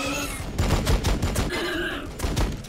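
Rapid bursts of anti-swarm gunfire from units in the Warhammer 40,000: Battlesector strategy game, loud sharp volleys repeating in quick clusters over a few seconds.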